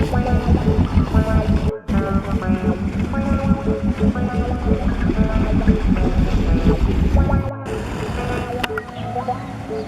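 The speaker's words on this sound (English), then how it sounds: "Looks like Murray finally got that motor going anyway." A boat motor drones steadily on the water during a hunting trip, loud and close with a chugging pulse and wind buffeting the microphone, briefly cutting out twice.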